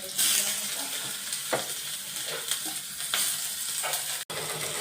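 Onions hiss and sizzle in hot oil in a small wok, a continuous bright frying noise with occasional stirring scrapes and a brief sharp knock near the end.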